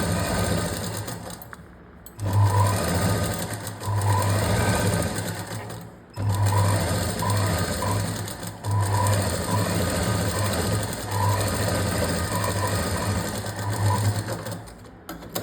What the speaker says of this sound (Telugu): సరిగ్గా చూసుకుంటూ లైన్ మీద పెట్టేసుకుని అతికేసుకోండి